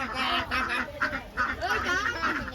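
Several ducks quack repeatedly at close range, their nasal calls overlapping in an uneven, chattering rhythm.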